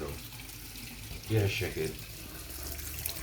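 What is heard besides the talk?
tap water rinsing cucumber seeds in a strainer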